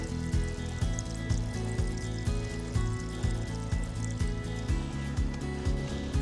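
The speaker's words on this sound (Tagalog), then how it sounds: "Ang ganda ng tunog ng tubig." Water trickles and gurgles steadily at Cringle Lake, UK, with a rhythmic pulsing pattern running through the flow, fairly close and moderately loud.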